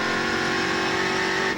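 Marcos Gomes's Stock Car race car accelerating at a 2008 race in Brasília, a loud, close, steadily rising engine whine held throughout without talk.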